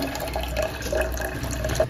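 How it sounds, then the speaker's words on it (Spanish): Tap water runs steadily into a container, filling it to mix tamale masa dough, a continuous close splashing flow with no talking. "Por acá estamos llenando el agua porque voy a empezar a batir lo que es la masa."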